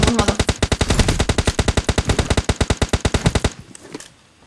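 Gunfire in the PUBG Mobile shooter game: a long, loud burst of rapid automatic shots in steady rhythm that cuts off abruptly, followed by a few faint trailing sounds.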